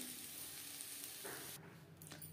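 A beetroot and carrot mixture cooking over a gas flame, a faint steady sizzle that thins out and drops in level partway through.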